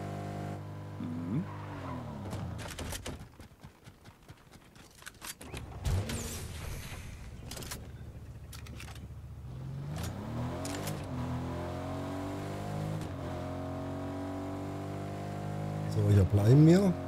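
A car in the Fortnite video game drives with engine revs rising and falling, broken by screeching tire skids and a few sharp clattering hits, loud and close throughout.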